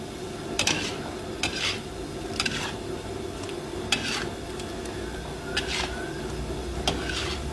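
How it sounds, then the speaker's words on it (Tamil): A pan fry of ooda, a Tamil dish, being stirred, with a spoon scraping and clinking against the pan at irregular intervals over a low steady frying hiss. "நல்லா கிளறி நல்லா கிளறி விடுங்க"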